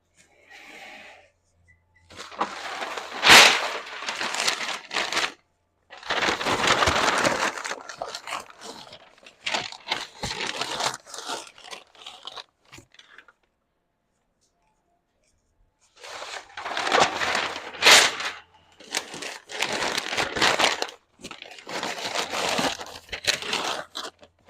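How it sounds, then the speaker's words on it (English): Packing paper is crumpled and stuffed into a box in several loud bursts of crinkling and crunching, separated by short silent pauses, including one longer gap in the middle. "Sorry about the crumpling paper noises,"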